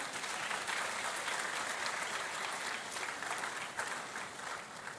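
A large audience at a university congregation ceremony breaks into sustained applause, a dense, even wash of many hands clapping that holds steady for several seconds and eases slightly toward the end, with no talk over it.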